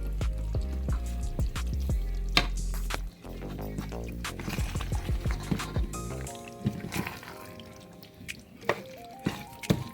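Egg noodles being stirred with butter and mustard in a pan for beef stroganoff, wet squelching and dripping sounds with clinks of a utensil, fairly close and steady with no talking.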